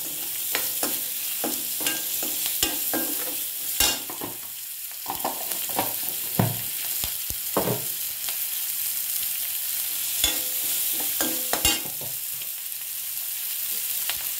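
Onions frying in a pan with mustard seeds for a South Indian brinjal tomato dal, a steady sizzle broken by repeated sharp scraping strokes of a spoon stirring, close and fairly loud with no voices.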